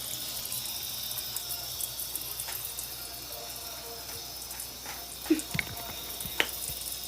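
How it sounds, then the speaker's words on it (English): Water runs steadily from a tap in a soft, continuous hiss, fairly faint, with a few small clinks and knocks nearby and no talk. "I feel like the water hot enough now."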